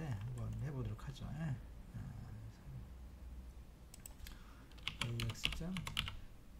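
Keys clack on an old computer keyboard in quick, uneven bursts of clicks, mostly in the second half, while someone talks on and off nearby.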